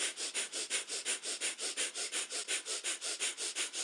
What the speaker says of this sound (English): Breath of fire is our panting breath, but through the nose.